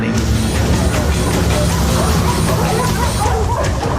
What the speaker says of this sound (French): j'ai vite entendu les aboiements et le bourdonnement des hélicos